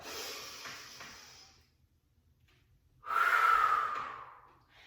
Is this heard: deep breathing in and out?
yes